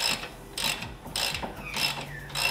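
A ratchet loosens the rear brake caliper bolts on an R35 GTR in a few short bursts of rapid, close clicking, with brief pauses between them. No voices are heard.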